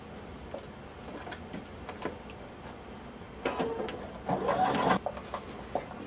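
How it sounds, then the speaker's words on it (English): Sewing machine stitching a blazer sleeve seam, a soft low whir with faint ticking that swells into a louder, denser run of stitching near the end, close and without talk. "And now we're going to sew all the way around using 5/8 of an inch seam allowance."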